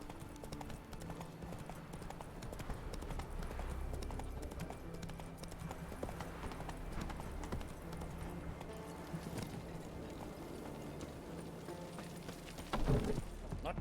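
Horse hooves clip-clop steadily as Geralt rides across Ard Skellig in The Witcher, the even gallop rhythm running under ambient game sound, with a heavier thump near the end.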